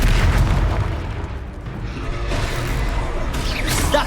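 A Confringo spell bursts in Hogwarts Legacy with a heavy, sustained boom and rumbling blast noise during combat, loud throughout with a sharper crack near the end.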